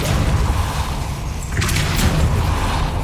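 A Depulso spell cast in Hogwarts Legacy lands as a loud, booming burst with a sharp whooshing swish over a dense rumbling game soundscape.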